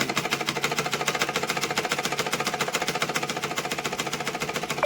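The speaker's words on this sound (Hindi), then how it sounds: "देखिए ये अस्तर वाला फैब्रिक हम सिलाई करेंगे।" A sewing machine stitches lining fabric in a fast, steady, even rhythm of needle strokes, close and continuous for the whole stretch with no pauses and no talking.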